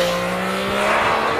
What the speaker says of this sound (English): you top all that off with what is undeniably an awesome exhaust sound